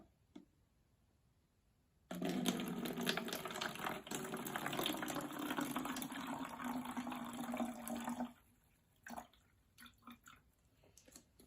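Liquid mixture poured into a DIY lava lamp bottle alongside oil, a steady splashing trickle running for about six seconds at close range, followed by a few small drips and clinks.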